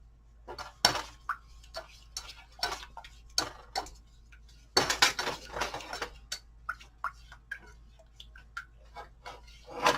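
A spoon stirs a keto mixture in a bowl, giving a string of irregular light clinks and taps against the dish, quiet and close, with a denser burst of scraping midway.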